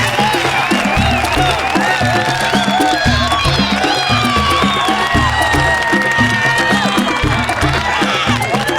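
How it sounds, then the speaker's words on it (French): Loud, sustained applause and cheering at a certificate ceremony, with whoops and whistles riding over a dense, continuous crowd roar that holds steady throughout. "on applaudit les scolaires de la Guinée"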